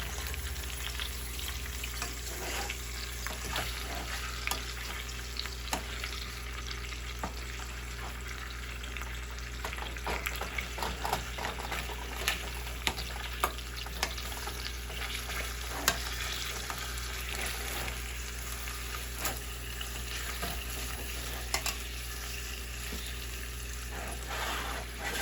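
Chicken pieces for doro wat curry sizzle steadily in a hot pan, a quiet continuous fry with faint scraping and tapping as they are turned over.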